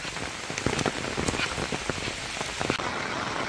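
Heavy monsoon rain drums steadily on a surface nearby in the Konkan, Sindhudurg, a dense continuous patter with scattered louder drops and no voices.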